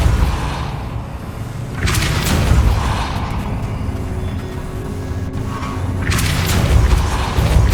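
Confringo explosive spell blasts in the Hogwarts Legacy video game, two loud booming bursts a few seconds apart over a continuous low rumbling game soundscape.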